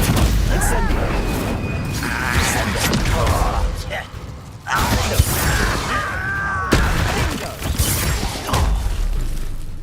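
In Hogwarts Legacy, an Incendio fire spell goes off amid busy combat, with whooshing bursts, booms and clattering mechanical effects layered densely over one another, and voices speak throughout.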